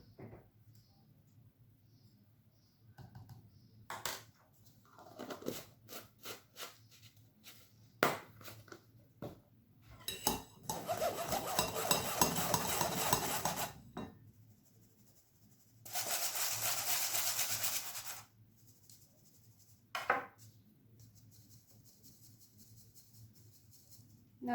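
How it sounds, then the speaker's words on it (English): Chocolate cake batter lumps pushed through a metal sieve make soft scraping and pressing strokes in short bursts, with two longer, louder stretches of rubbing. Quiet gaps fall between the strokes. "now you will get lumps like this, so just gently push them through the sieve"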